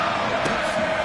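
Stadium crowd noise in a PS4 football video game during a playoff kickoff: a steady, dense roar of massed fans with broad hiss, swelling briefly, continuous and loud through the short moment.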